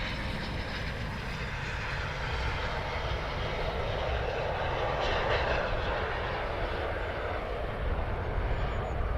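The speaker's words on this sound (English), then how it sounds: "Nice landing there. Beautiful touchdown." A Eurofighter Typhoon jet lands on the runway at RAF Coningsby, a loud, continuous broadband engine roar that holds steady throughout, heard from nearby.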